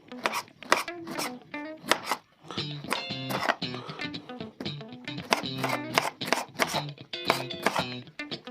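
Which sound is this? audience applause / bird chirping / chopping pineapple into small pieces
chopping pineapple into small pieces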